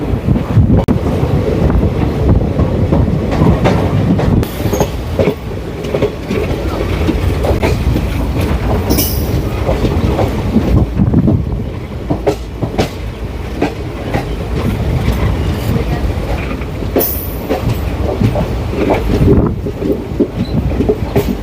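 The 15670 Nagaland Express, running between Dibrugarh and Guwahati, rolls along with a loud, continuous rumble and rattle, heavy wind buffeting the microphone and occasional sharp clanks throughout.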